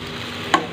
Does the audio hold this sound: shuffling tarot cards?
no